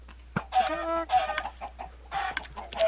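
Chickens in a Minecraft Buildcraft automated coop cluck in short, repeated bursts, close and fairly loud, with a brief click at the start.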